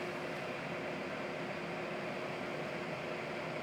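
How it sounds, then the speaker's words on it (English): Cooling fans of a Licitti DIY power station running under a load near 1000 watts give a steady, even broadband whoosh heard close up, with no pauses or talk. "Let's hear the fans."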